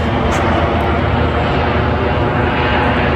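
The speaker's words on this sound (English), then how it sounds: "there's a plane above us." A fixed-wing airplane passes overhead, a loud, steady broadband engine roar that fills the whole clip without letting up, with no voices over it.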